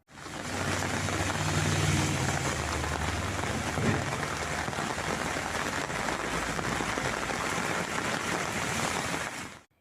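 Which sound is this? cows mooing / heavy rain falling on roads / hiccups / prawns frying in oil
heavy rain falling on roads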